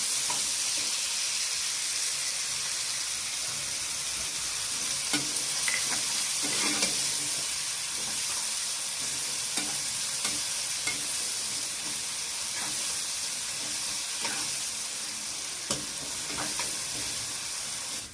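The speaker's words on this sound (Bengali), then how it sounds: "তেলের মধ্যে দিয়ে দিচ্ছি পেঁয়াজ কুচি পেঁয়াজগুলো হালকা করে ভেজে নিয়ে" Chopped onions frying in oil in a pan for paneer masala, a loud continuous sizzle with scattered clicks and scrapes of stirring throughout, no talking.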